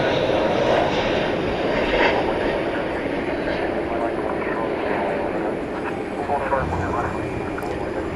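An Iberia Airbus A330 from Madrid arrives at night at Dallas Fort Worth airport, its jet engines a steady distant roar that slowly fades slightly, with a voice talking over it.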